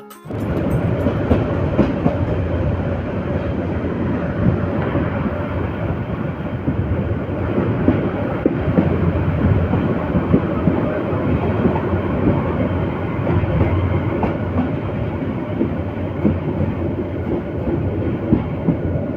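The Teesta Express passenger train rumbles steadily along the rails from Dhaka toward Dewangonj-Bazar, a loud continuous roar with faint clickety-clack, heard from onboard with no talk.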